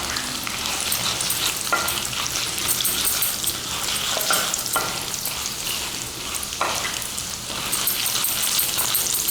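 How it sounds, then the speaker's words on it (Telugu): Spices fry in hot ghee for pomegranate curd rice, a loud continuous sizzle close up, with occasional stirring scrapes. "ఈ నేతిలో వేపుకోవాలి."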